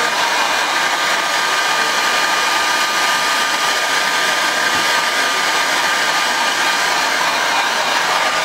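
A hair dryer runs steadily and loudly throughout, drying hair during a hair-fiber hairline enhancement treatment, with no speech.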